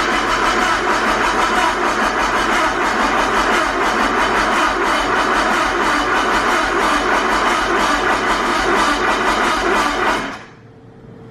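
A Nissan Skyline's RB25 engine cranks on the starter in a steady, loud rhythmic churn for about ten seconds without catching, then cuts off abruptly, leaving a faint hum.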